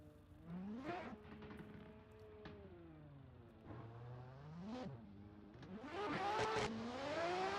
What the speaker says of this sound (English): Thanol just reset his car. Interesting. Driving back up to the start.